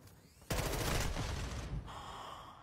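Loud burst of rapid gunfire in the Modern Warfare II shooter game, a dense volley lasting over a second before cutting off, leaving a quieter game-sound tail.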